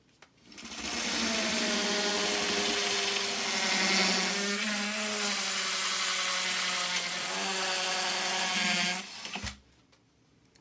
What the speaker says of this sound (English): If you have a hammer drill, that's going to help get through the concrete.